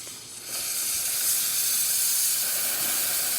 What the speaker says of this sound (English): And let's test the steam.